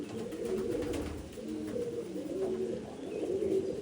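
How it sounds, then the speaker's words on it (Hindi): Domestic Malawi pigeons, kept at home, cooing in soft, low, repeated calls that continue steadily and close by, with no talking. "और भी कबूतर है क्योंकि कबूतर बहुत सारे लाए हैं हमने।"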